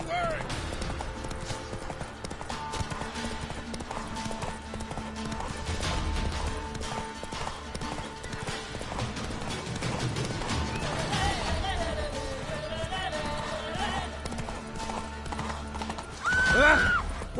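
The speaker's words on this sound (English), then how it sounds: "Run, Roach." Roach, the horse in The Witcher 3, gallops with rapid rhythmic hoofbeats over game music and voices, a loud neigh rising near the end.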